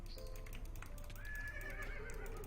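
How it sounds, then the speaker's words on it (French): A horse neighs in the Minecraft video game, a drawn-out whinny rising in the middle of the clip over a steady background hum, with light clip-clop and tapping sounds around it. "Et là il y a un cheval"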